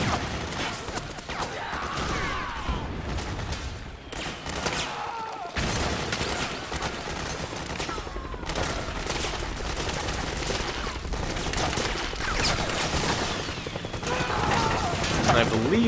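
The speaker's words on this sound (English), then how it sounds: "Lots of explosions everywhere." Explosions and gunfire in the video game Metal Gear Solid 4 (PMC airstrike, helicopter battle) rattle on continuously, with bursts of fusillade and heavy blasts layered under a person talking over the action.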